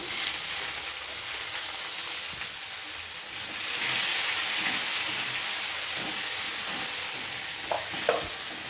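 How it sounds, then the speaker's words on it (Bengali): Onion frying in oil with dry red chilli, whole garam masala, cumin and bay leaves, a steady moderate sizzle that swells for a few seconds, with light stirring taps near the end and no voices. "শুকনো লঙ্কা গোটা গরম মশলা গোটা জিরে পেঁয়াজ দিয়ে দেবো"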